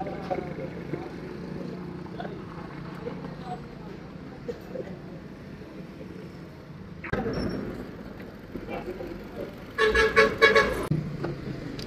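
A car approaches along a highway on a road trip from Karachi toward Islamabad, someone talking over the engine and road noise before a burst of loud horn honks near the end.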